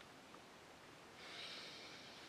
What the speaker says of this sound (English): So let's give it a swirl and a sniff,